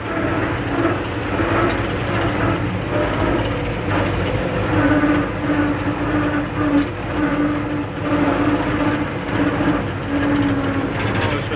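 Combine harvester at work during a grain harvest, a loud, steady, close engine and threshing roar that runs continuously without a break.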